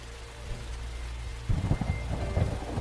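Rain hisses steadily at night while deep thunder rumbles in the film Ninja Assassin (2009), the rolling booms growing stronger and more rumbling in the second half.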